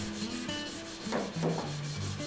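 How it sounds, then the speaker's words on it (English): Sanding a Damascus steel knife blade to high grit, a few short rubbing strokes close up against a backdrop of background music. "Now that I have the blade sanded to a high grit and ready for the etch"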